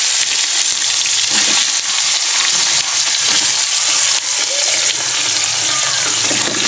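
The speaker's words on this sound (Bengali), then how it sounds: "পটলগুলো ভেজে নেবো ওই তেলে।" Pointed gourd (potol) frying in oil left over from fried fish, a loud, dense sizzle that holds steady from start to finish with faint spatters.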